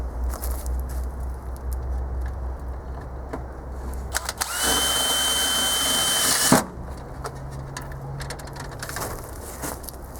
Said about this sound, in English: I'm going to screw it on.